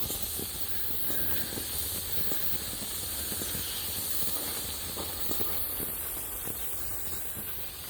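A steady high hiss of escaping steam from a coal-fired live steam model locomotive (DR 99 6001-4) runs throughout, with faint irregular ticks and clicks beneath it.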